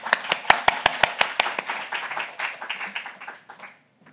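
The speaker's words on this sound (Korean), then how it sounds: "우리 박수 한번 할까요, 서로?" A church congregation at a worship service breaks into applause, opening with a string of sharp, evenly spaced hand claps that blur into a ragged burst of clapping before fading out after about three and a half seconds.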